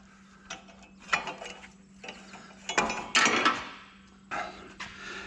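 A ratchet wrench works on a bolt during a water pump job, sending out repeated bursts of rapid clicking ratchet strokes. The bursts are close and loud, with short pauses and a faint steady hum underneath.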